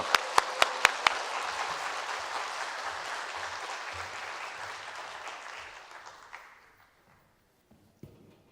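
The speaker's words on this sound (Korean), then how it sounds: "우리 박사님 나오실 때 여러분 환호의 박수 한번 주시겠습니다" Church audience applauding at a Sunday afternoon family healing seminar as the guest doctor comes out, a few sharp claps up front before a dense sustained wave that fades out near the end.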